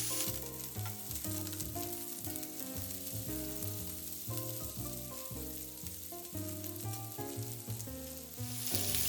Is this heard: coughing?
no